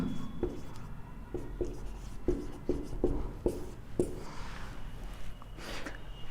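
A pen writes on paper in short strokes with soft rhythmic taps and scratches, close and steady over low background hum and room noise.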